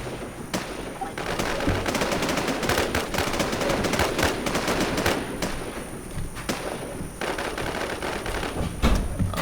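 Rapid automatic gunfire in the video game Infestation, dense continuous bursts of shots with sharp cracks throughout, loud and close.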